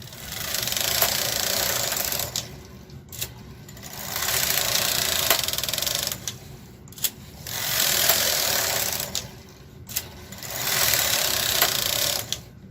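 A KH 230 knitting machine knits rows. Its carriage makes loud, steady mechanical rattling passes of about two seconds each, separated by short, quieter gaps and sharp clicks at each end, in a regular back-and-forth rhythm.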